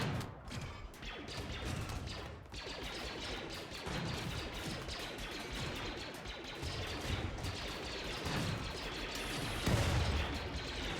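Weapon fire in the video game RimWorld, with blasters and base defenses in a Star Wars clones-versus-droids battle: a dense, continuous clatter of shots, crashes and impacts rolling on without pause.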